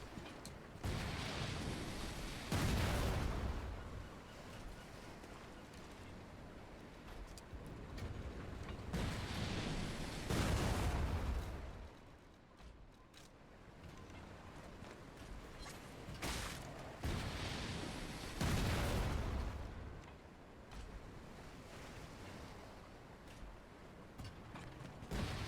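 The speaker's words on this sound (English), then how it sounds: "Sure, cluster grenade, why not?" Cluster grenade blasts in the video game Lies of P, several heavy booming bursts spaced a few seconds apart, each followed by rumbling debris over quieter game ambience.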